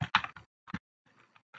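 Computer keyboard typing during an Excel data-entry task: a few short bursts of clustered keystrokes, close and moderately loud, separated by brief pauses, with no talking.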